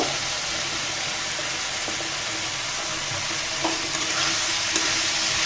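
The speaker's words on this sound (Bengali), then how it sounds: "এই পর্যায়ে আমি বেগুনটা দিয়ে দিব।" Eggplant fries in hot oil in a pan with spices, a loud, steady close sizzle with occasional scraping clinks as it is stirred, and no talking.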